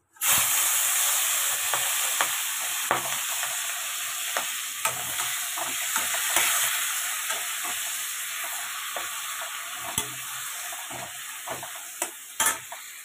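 Fish oil sizzles and fries in a hot pan, starting suddenly with a loud, steady hiss that continues throughout. Sharp scraping clicks of stirring cut in at intervals.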